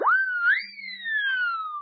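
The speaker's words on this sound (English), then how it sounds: "When you blow on the whistle, it sounds like this." A siren whistle blown once, its shrill tone swooping upward, wavering briefly, then gliding slowly downward as it trails off.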